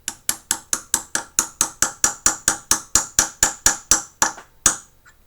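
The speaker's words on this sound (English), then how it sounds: "we're going to take our hammer and our brass punch" A hammer strikes a brass punch to drift a pistol sight into the dovetail of a 1911, giving about twenty sharp, evenly spaced metallic taps close up, slowing slightly near the end.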